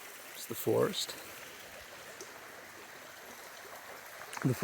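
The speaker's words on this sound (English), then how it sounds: "See the water flowing off the side." Brook water flows steadily through a forest below cliffs, a soft continuous rushing wash heard close by, with a few brief bursts of speech near the start and end.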